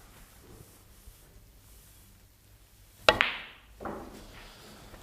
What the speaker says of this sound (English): The white ball is going to skid along, and when it hits the red, it stops.